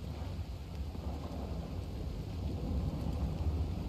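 Video-game thunderstorm in Red Dead Online: steady heavy rain with deep, low rumbling thunder rolling underneath, continuous and fairly even, with no voices.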